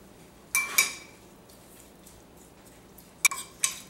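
Soy sauce, white vinegar and sesame oil stirred together in a bowl, with a few sharp utensil clinks against the bowl, two near the start and a couple more toward the end, amid a quiet kitchen background.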